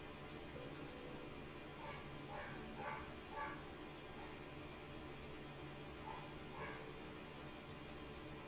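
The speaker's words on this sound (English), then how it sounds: "That dog's annoying." A dog yaps in short bursts in the distance, faint under a steady hiss of background noise, with a few scattered barks spread across the stretch.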